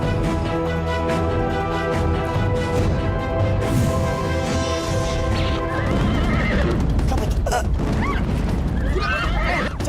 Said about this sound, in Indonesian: Cepat kejar kuda itu!